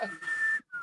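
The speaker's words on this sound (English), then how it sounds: "he's whistling" A man whistles close by: a long, steady note held for about half a second, a brief pause, then a shorter second note.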